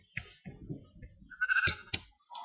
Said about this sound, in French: Là c'est là où il y a tous les moutons.